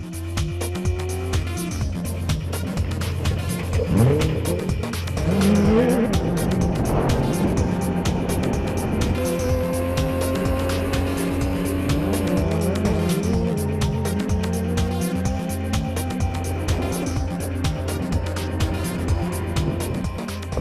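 A race car's engine revs up and down through changing gears as its tires squeal through corners, loud and close throughout.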